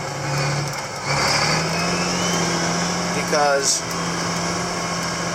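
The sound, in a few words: John Deere 8530 tractor driving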